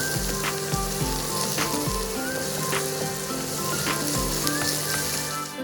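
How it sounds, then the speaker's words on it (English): Peeled, deveined shrimp and garlic sizzle in a hot pan, a dense continuous crackling hiss with occasional soft knocks of a utensil, close and steady throughout. "Cook the shrimp for 2 to 3 minutes until nicely pink"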